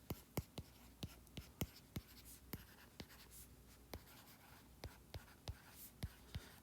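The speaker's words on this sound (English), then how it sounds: "let me write that down." Pen strokes on paper during a lecture, a quiet series of short sharp scratches and taps in an irregular rhythm, close up, with no talking.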